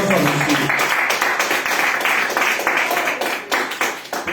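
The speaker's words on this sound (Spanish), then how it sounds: "Un aplauso a Jesús." A church congregation claps during a Spanish-language sermon, brisk applause from many hands that thins into scattered last claps, with a voice speaking over part of it.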